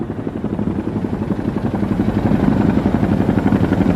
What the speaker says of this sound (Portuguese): um helicóptero agora podia levá-los para a segurança